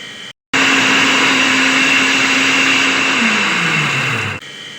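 After a brief gap, a water pump motor with old, worn bearings starts with a loud, rough, grinding whine. It holds steady for a few seconds, then the pitch drops as it spins down and cuts off, close and alone.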